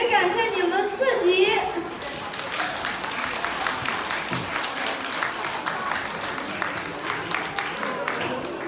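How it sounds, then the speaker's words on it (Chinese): Warm applause from an audience thanking teachers at a school year-end Lunar New Year gathering, sustained steady clapping following a brief announcement voice at the start. "请以热烈的掌声感谢我们的老师们"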